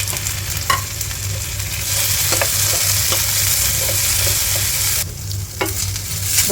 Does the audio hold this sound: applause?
no